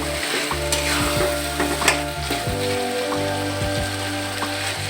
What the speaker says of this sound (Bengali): আমি মাংসটা ভালোভাবে একটু কষিয়ে নিচ্ছি